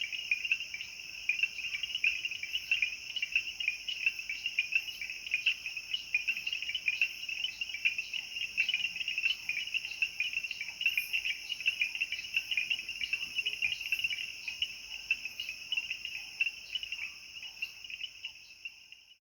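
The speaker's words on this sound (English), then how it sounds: "What you hear is the original sound, produced by a myriad of male bell frogs" Night chorus of countless male bell frogs in the Kalahari, a dense, continuous high-pitched ringing trill pulsing rapidly and evenly throughout, with no voices.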